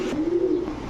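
A single pigeon coos close by, one soft, rolling, throaty call of about a second at a pigeon farm with racing and fancy breeds such as giribaz and bald head archangel, with no talk.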